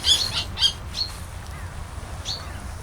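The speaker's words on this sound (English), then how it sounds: "all of a sudden he started chirping really loudly." A kestrel perched in the snow lets out several loud, sharp squawking chirps in quick bursts, with quieter calls between them and a low background rumble.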